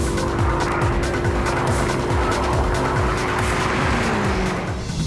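A BMW M5 Competition and a Mercedes-AMG sedan racing side by side on a track, with engines roaring, repeated gear-change rhythm and tire squeal, loud and continuous without voices.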